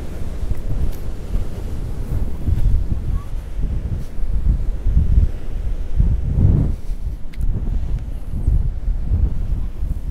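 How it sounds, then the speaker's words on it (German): Strong wind buffets the microphone on the Baltic Sea coast during surf fishing, a loud, continuous rumbling roar with gusts and surf wash beneath it. "der Wind ist viel zu stark"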